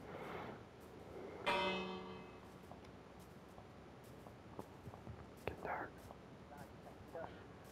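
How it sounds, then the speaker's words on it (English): A bell in a Minecraft village rings once with a bright, ringing tone that fades over about a second, amid faint whispered talk and scattered small clicks of gameplay. "I gotta ring the bell."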